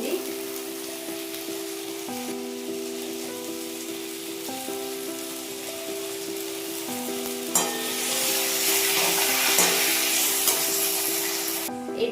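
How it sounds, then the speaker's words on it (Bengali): A soy and tomato sauce mixture goes into a hot pan for chilli chicken, and the quiet frying surges into a loud, bright sizzle partway through, with stirring scrapes close by. "সোয়া সস টমেটো সসের মিক্সচারটা এর মধ্যে ঢেলে দিচ্ছি"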